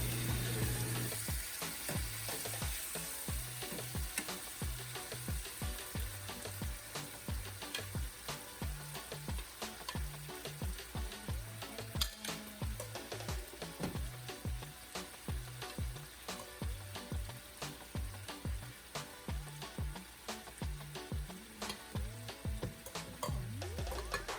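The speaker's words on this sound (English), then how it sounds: "now let's go ahead and cook our meat" Meat searing in olive oil in a skillet over medium-high heat, a steady crackling sizzle with dense tiny pops throughout, backed by a sustained musical bed.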